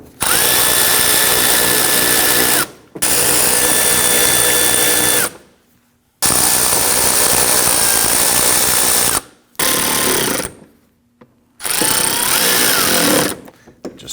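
A power drill drives screws into a 2010-2019 Ford Taurus bumper, whirring loudly in several bursts of a few seconds each, with short pauses between them.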